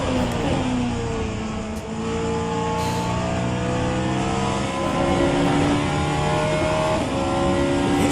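Simulated race car engine in rFactor 2 revs hard, its harmonics climbing and dropping in repeated sweeps as it bounces against the rev limiter, loud and continuous with no voices.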